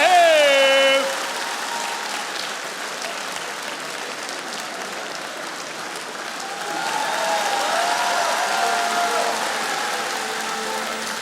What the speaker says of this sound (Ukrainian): Зустрічайте верховими оплесками!